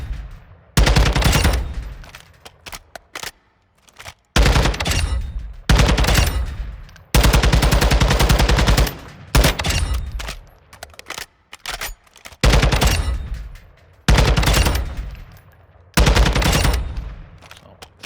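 An assault rifle fires in Call of Duty: Modern Warfare II, loud rapid automatic bursts repeating about eight times with short pauses between them.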